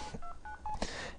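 An LG260 mobile phone emits three short keypad beeps in quick succession, clear and close, followed by a brief click.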